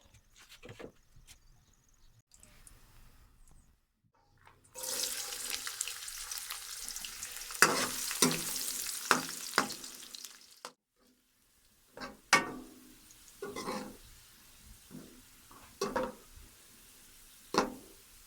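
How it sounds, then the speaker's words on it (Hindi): Onions browning in ghee for a potato mungra curry give an intermittent crackling sizzle, with a near-silent start, a burst of frying in the middle, then scattered spoon clinks and scrapes. "सबसे पहले घी शामिल करके प्याज ब्राउन करेंगे।"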